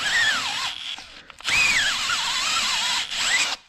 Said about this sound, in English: This ream's really old too, and it still works well.